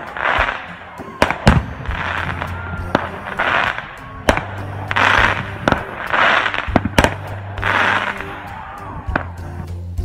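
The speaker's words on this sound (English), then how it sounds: "This fireworks is for you." Fireworks sound effect with sharp cracking bangs and rushing bursts repeating every second or so, loud and close, with a faint low voice underneath.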